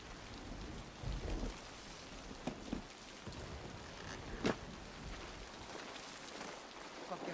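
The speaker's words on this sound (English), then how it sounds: "Fucking rain never ends." Steady rain with occasional thunder in a scene from the TV series The Pacific, a continuous hiss with low rumbles and a few sharp cracks, with faint voices underneath.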